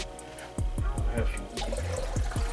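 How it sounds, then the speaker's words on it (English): Water pours from a Zero Water filter pitcher, splashing and dripping in short bursts. Faint clinks are heard, along with a voice in the background. "some water here, my zero water filter"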